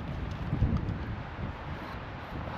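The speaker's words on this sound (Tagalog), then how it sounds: "Lakas na ng hangin." Wind blowing among the Banff hoodoos produces a faint, steady low rumble against the microphone, with a slightly stronger gust early on and no talking.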